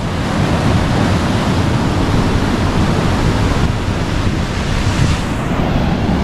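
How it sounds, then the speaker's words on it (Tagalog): Strong surf breaks and rolls onto an Australian beach in a continuous, loud roar of churning water, with wind buffeting the microphone throughout and no voices. "Yan yung gustong gusto nila, yung malakas ang alon."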